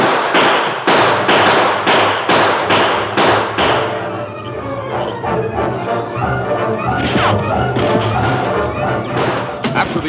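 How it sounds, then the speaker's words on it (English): Opening volley of gunfire in a Lone Ranger radio western drama: a rapid run of sharp, loud shots in the first few seconds, then a dense, rumbling tail of echoing effects and commotion. "After the opening volley of gunfire"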